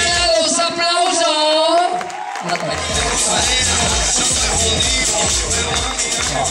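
Applause and cheering from an audience at a resort show, loud and continuous, rising in strength after a tonal musical passage in the opening seconds, with voices mixed in.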